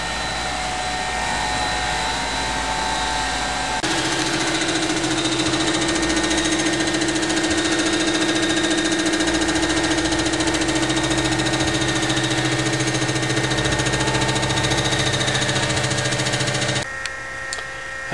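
A resurfacing machine mills the deck of an older Chevrolet 235 engine block, taking a pass of a couple thousandths: a loud, steady mechanical whine and hum that rises in pitch as the cut begins and holds continuously before stopping abruptly near the end.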